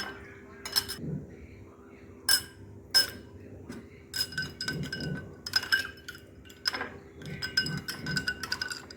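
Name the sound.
ice cubes added to lemon juice drink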